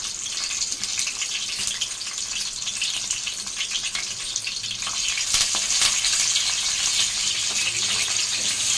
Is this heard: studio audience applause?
no